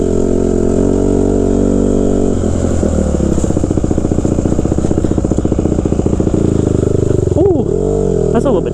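A 2014 Honda CRF150R dirt bike engine roars close and loud on a test ride, revving up and down with rapid firing pulses, dropping and surging again near the end.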